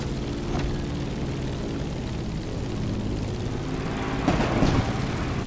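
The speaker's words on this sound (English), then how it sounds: "Let's start our descent and get ready for the landing." Airplane descending to land in the video game The Crew Motorfest, arriving at Honolulu: a steady engine drone with propeller-like hum, held at an even level, with a louder rushing swell near the end.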